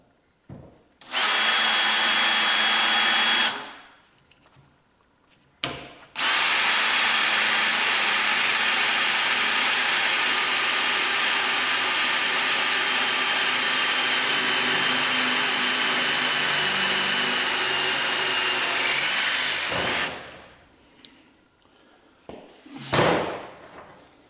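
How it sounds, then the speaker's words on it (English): A power drill bores holes in a workbench in a workshop, with a short burst, then a long sustained high whine lasting about fourteen seconds, loud and close, with a few knocks between runs. "let's see if we can drill some holes"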